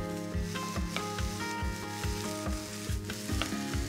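Coarsely diced onions sauté in butter over medium-high heat for salt cod fish cakes: a soft continuous sizzle with regular scraping strokes as they are pushed around the pan, under a faint melodic backing.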